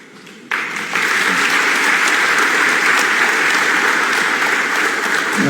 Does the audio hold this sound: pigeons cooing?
no